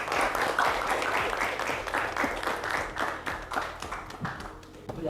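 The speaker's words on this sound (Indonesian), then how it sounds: "tepuk tangan untuk temannya" Classroom applause from students clapping for a classmate, a dense run of many hands clapping steadily for several seconds, moderately close.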